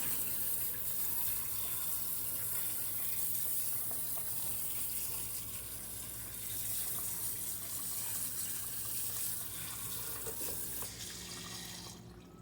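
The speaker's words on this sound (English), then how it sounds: "I'm just going to give them a really good rinse" A kitchen faucet runs hard over a batch of blackberries, a loud, continuous gushing rush of water that stays steady before cutting off near the end.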